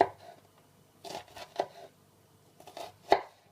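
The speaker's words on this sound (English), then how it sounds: "I'm going to turn the onion and cut it this way." A knife cuts through an onion on a board for a quinoa salad with roasted pumpkin. About five quiet, crisp strokes come in two small clusters with short pauses between them, heard close up.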